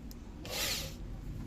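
A power drill spins a Suzuki X4 dashboard odometer cable in a brief whirring burst that swells and cuts off within about half a second, quiet against a low background hum.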